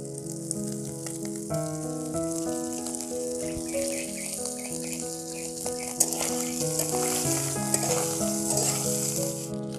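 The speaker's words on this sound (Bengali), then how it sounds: "বন্ধুরা, ভর্তা তৈরি করতে গেলে মাছগুলোকে ভালো করে ভেজে নিতে হবে" Chanda fish frying in oil for a Bengali bharta crackle and sizzle steadily up close, under a bed of melodic music that plays the whole time.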